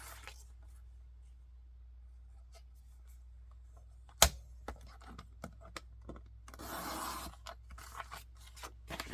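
Paper for a scrapbook folio is cut in a quiet room: a sharp snap, then scattered soft snips and scraping touches, followed by a brief rustling burst near the end.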